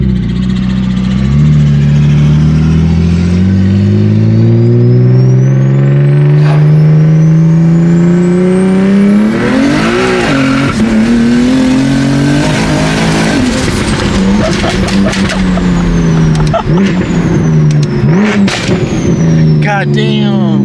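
Single-turbo BMW M3 CS engine revving and accelerating hard, loud and close, its pitch climbing through gears with turbo whoosh and brief lifts between pulls, running continuously for about twenty seconds.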